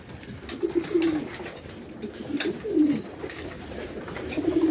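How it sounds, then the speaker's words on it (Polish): Pigeons coo in repeated low, throaty phrases, fairly close, with short pauses between calls over a soft outdoor background. "Dużo jest gołębi na dworzu."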